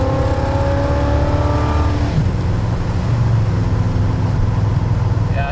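A classic car's loud engine roars and revs up as the carburetor secondaries open, climbing in pitch before settling into a throaty rumble, heard from inside the car.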